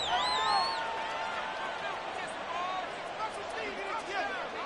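Stadium crowd noise in a Madden football video game, late in the fourth quarter after a game-tying extra point: a broad roar with whistles and scattered shouts, fading slightly, while commentary runs over it.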